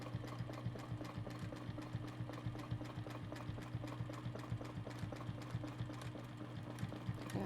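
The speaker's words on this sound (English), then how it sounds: "And I'm going to stitch straight across." Sewing machine running steadily while quilting a straight line across a spider web pattern, its needle ticking in a fast, even rhythm at close range with a low motor hum underneath, no voices.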